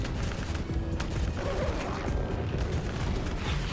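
Dense, continuous gunfire from the video game Call of Duty: Black Ops 3, sustained rapid shots and bursts filling the whole stretch with a busy, loud battle texture and no clear pauses.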